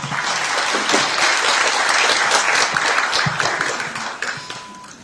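An audience applauds at an education forum, a dense, loud, sustained clapping that fills the hall and tapers off toward the end.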